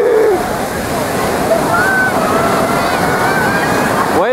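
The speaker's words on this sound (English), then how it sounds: "Here comes the water." Ocean waves surge and wash in during a California summer outing, a loud, steady rushing roar of water filling the scene, with people talking over it.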